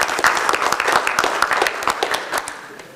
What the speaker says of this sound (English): let's give Michelle a round of applause for putting all this together